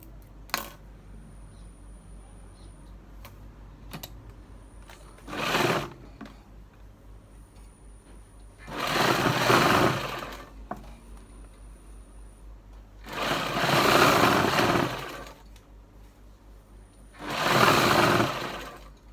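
A sewing machine stitches a folded waistband belt on palazzo pants in several separate bursts, with quiet pauses and small clicks between the runs, heard close with no talk.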